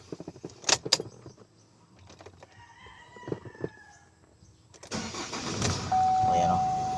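2016 Chevrolet Colorado with delayed RPM and low power, heard with keys jangling and scattered clicks before the engine cranks and starts into a steady idle; a rooster crows and talk is heard around it.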